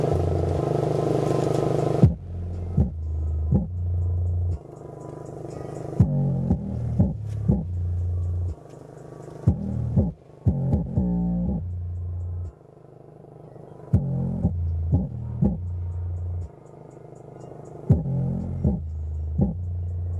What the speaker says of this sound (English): This thing absolutely bumps, so I'll play a quick demo of how that sounds.